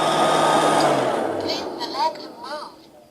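A Liectroux B3000 robot vacuum cleaner hums and whirs steadily nearby, its motor drone fading toward the end while a few faint higher chirps come through.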